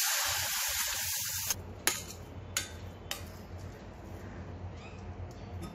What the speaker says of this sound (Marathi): थोडं पाणी घालू आपण।